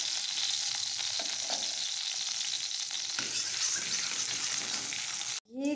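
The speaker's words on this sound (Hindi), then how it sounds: "कढ़ाई में डाल देंगे हम 1 बड़ा चम्मच घी।" Desi ghee melts and sizzles steadily in a kadhai, a continuous close frying hiss with faint stirring scrapes, no talking, ending in a brief clatter.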